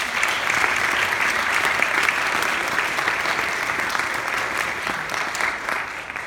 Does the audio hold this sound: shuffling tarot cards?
no